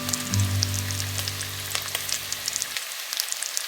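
Finely chopped onion frying in hot oil in a pan, with a steady close sizzle and soft crackles for most of the moment before it abruptly drops away to near quiet.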